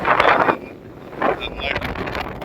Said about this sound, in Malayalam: അത്യാവശ്യം നല്ല കാറ്റുമുണ്ട്.